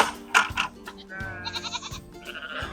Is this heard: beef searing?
no